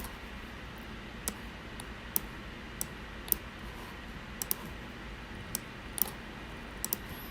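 A computer mouse clicks while someone works in Autodesk Revit: about a dozen faint, sharp, separate clicks spaced irregularly over a quiet background hiss, with no speech.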